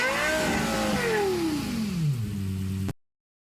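A Lexus LFA in a sim racing game revs hard, its engine note sweeping down smoothly from a high wail to a low idle before cutting off abruptly.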